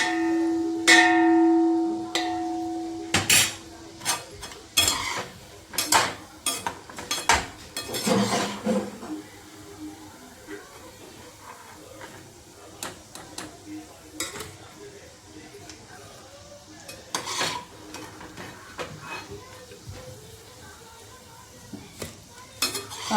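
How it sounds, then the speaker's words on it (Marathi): Gulab jamuns dropped into sugar syrup and stirred in a pot, with repeated metallic clinks and scrapes of a spoon against the vessel, irregular and close, clustered densely early and thinning out later. "तिथे घातले पाकात. आता यात आपल्याला हे सगळे जामून टाकायचे."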